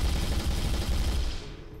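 Rapid automatic bursts from an SMG in a first-person shooter game, a dense continuous rattle of shots that cuts off near the end, loud and close with no voices.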